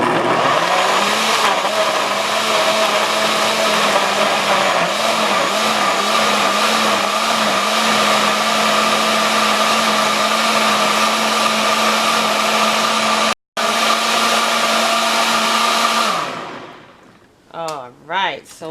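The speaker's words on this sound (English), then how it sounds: "Alright, so you blend it for high until it's smooth." A NutriBullet blender runs on high while blending a drink, a loud, steady motor whine held for about sixteen seconds before spinning down and stopping.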